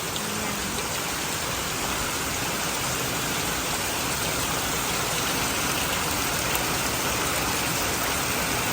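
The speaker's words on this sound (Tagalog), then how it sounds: "sumasahod po ako ng tubig ulan dito" Steady, dense rain pours down close by, a constant hiss and patter on surfaces and into collecting containers, with no pauses or voices.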